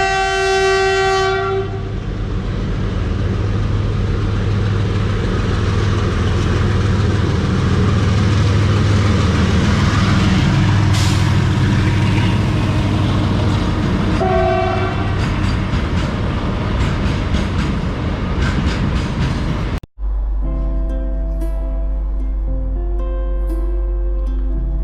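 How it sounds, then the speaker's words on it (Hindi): A WDG 4G diesel locomotive draws near on the Jaipur to Agra Cantt route, a loud continuous engine roar with rolling rail clatter and long horn blasts near the start and middle, ending in an abrupt cut to quieter station ambience. "सामने से WDG 4G जो है वो आ रहा है"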